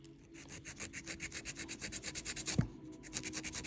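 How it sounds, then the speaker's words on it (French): A file rasping along the edges of a gel capsule nail, shaping it during a manicure: fast, even back-and-forth strokes, close and fairly loud, with a brief break near the end before the strokes resume. "Je vais venir limer les bords."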